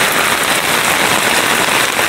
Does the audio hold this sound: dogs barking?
no